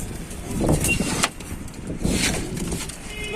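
Pigeons in a loft of birds for sale in Tanta, Egypt, give a few soft, low coos close by over a light, steady background hum, with no voices.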